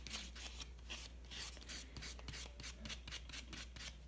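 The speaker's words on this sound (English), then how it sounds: "Next is smooth nail, and then it just like smooths the top of your nail to help that go away." A fingernail rubbed with a nail buffer to smooth its top, a quick series of soft, close, scratchy strokes in an even back-and-forth rhythm, faint and continuous.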